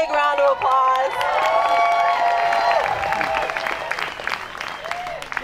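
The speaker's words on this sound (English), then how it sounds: "So give yourselves a big round of applause." Crowd applause and cheering at an outdoor anti-GMO march and rally on Maui, steady and loud throughout, with voices and shouts mixed into the clapping.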